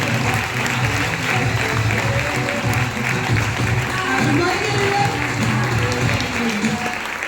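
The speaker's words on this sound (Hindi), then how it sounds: "मिस हेमलता, जोरदार तालियां फ्रेंड्स हेमलता मैम के लिए" Sustained crowd applause greets the speaker, Miss Hemlata, at a women's mindset empowerment training, continuing at a steady level while a voice talks over it.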